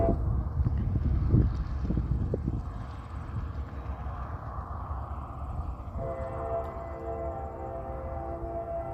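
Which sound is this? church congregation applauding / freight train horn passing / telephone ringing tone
freight train horn passing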